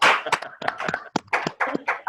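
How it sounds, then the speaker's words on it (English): Hand clapping on an online group call, a quick irregular run of close claps overlapping and blending with other participants' background sounds. "I'm giving a hand clap back"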